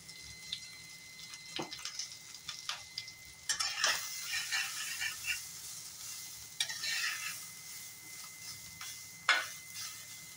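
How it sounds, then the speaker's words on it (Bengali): Cauliflower and potato frying in a little oil over a lowered gas flame make a faint, quiet sizzle, broken by scattered crackles and occasional utensil clinks. "এইটুকু তেলের মধ্যেই আমি ফুলকপি আর আলুটা ফ্রাই করে নেব, যাতে পুড়ে না যায়।"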